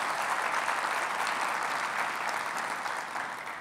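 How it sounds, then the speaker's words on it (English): A conference audience at a 2016 BICSI presidential inaugural address gives sustained, dense applause that fills the room, steady and loud before easing slightly at the end. "Give him one more round of applause for Michael, please."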